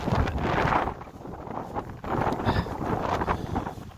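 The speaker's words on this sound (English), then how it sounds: "Woo, she's windy. She's windy, that's the main thing." Gusty wind rushes and buffets against the microphone outdoors in Iqaluit, rising and falling in loud surges with no one speaking.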